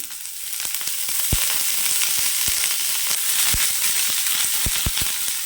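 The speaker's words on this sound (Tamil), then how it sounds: "பாருங்கள், நல்லா வறுத்தாச்சு. ரொம்ப கருகாமல் வறுத்துக்கணும்." Mutton legs frying in oil in a pan, a dense continuous sizzle with sharp pops and crackles scattered throughout, heard up close with no speech.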